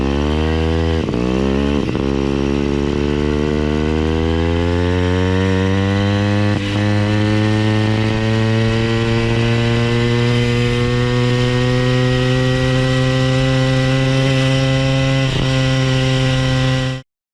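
Two-stroke engine on a motorized bicycle, upgraded with an opened transfer port, runs loud and close with a buzzing, rising tone, revving up after a couple of brief dips and holding a high steady whine.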